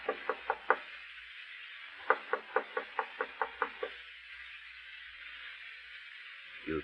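Knocking on a door as a 1952 radio drama effect: a set of four raps, a pause, then a longer run of about eight evenly spaced knocks, fairly close and dry, with no voices over them.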